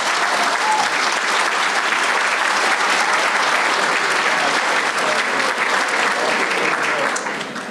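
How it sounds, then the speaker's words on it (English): Sustained applause from an audience at a civic State of the Cities event honoring elected officials and dignitaries, a dense, steady wash of clapping that holds strong and tapers slightly at the very end. "Let's give all of our elected officials and honored dignitaries a round of applause."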